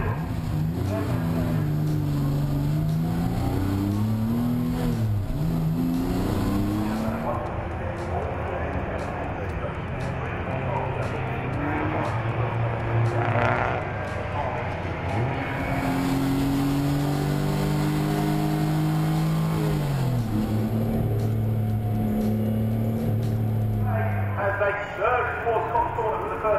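Race cars in the Forza Motorsport 4 video game surging away at the start of a Britcar 24 Hour race, engines revving and rising in pitch through gear changes, under continuous commentary.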